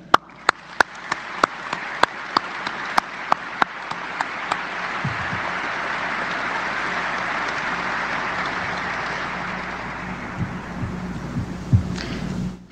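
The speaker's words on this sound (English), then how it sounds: "So let's have a round of applause for Randall and his family." At a military change-of-command ceremony, a few sharp, loud claps ring out first, then broad applause from a large audience swells and holds steadily before tapering away.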